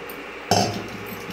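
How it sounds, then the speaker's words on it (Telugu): Water is poured into a pan of gongura and dry prawn curry, arriving as one sudden splash and gush that starts abruptly and then settles into a steady, moderately loud hiss and bubbling sizzle. "కొంచెం వాటర్ వేసుకుందాం."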